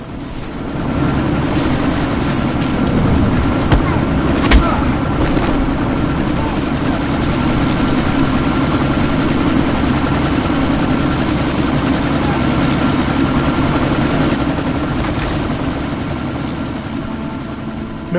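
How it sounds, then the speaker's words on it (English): A helicopter runs loud and close while taking off, its rotor thudding and engine roaring in a steady, unbroken drone throughout. "That chopper's about to take off!"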